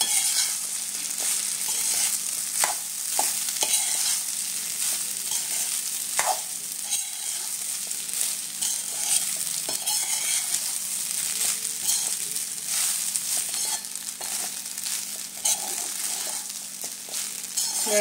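Cooked rice with raw mango being stirred in a hot frying pan: a steady, even sizzle with frequent scraping and tapping of the spoon against the pan, with no talking.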